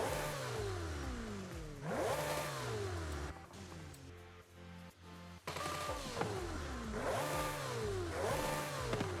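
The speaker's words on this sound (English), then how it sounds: "Like a Ferrari, as I would expect." A Ferrari 488 GTB engine in the video game Forza Horizon 5 revs repeatedly, pitch climbing and dropping through loud aggressive sweeps with a brief lull in the middle, continuous and close.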